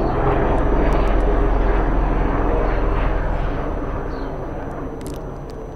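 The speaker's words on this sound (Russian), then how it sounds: "Ох, вертолет, мы вас любим, вертолет." A helicopter passes overhead as a loud, broad engine and rotor roar that slowly fades as it moves away, with faint bird chirps near the end.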